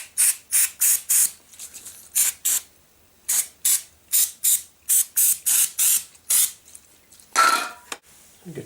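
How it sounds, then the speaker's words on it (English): Short hissing bursts of spray cleaner shot into a potentiometer on a Fender Squier Stratocaster guitar, repeated in uneven quick pairs and runs, close and loud with quiet gaps between. "Spray out this first pot."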